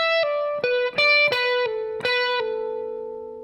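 Electric guitar with effects and light distortion playing a phrase from a song: a quick run of plucked notes with hammer-ons and pull-offs, ending on a ringing note that slowly fades, close and clear.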